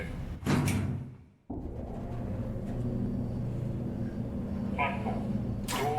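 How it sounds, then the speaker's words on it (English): Sliding doors on a BR Class 390 train in a simulator game glide shut with a short whoosh and a thud, then a steady cabin hum continues with faint chimes and another door movement at the end. "Doors closing."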